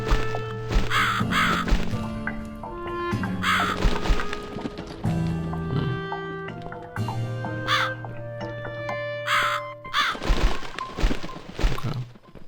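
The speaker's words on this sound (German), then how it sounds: "Vielleicht dem Raben folgen." Ravens cawing in the video game The Cat Lady, with several harsh caws repeating at intervals over sombre game music and occasional dull thuds.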